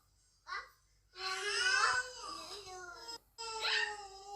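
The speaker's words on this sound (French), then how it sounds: "Et le bébé, il pleure." A baby cries and babbles in short, wailing bursts, close and fairly quiet. There is a brief whimper first, then a long sobbing cry and another cry after a pause.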